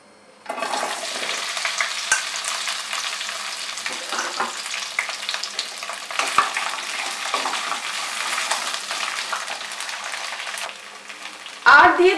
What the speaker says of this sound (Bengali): তেলটা গরম হলে এর মধ্যে আমি সবার প্রথমে দিয়ে দেব কেটে রাখা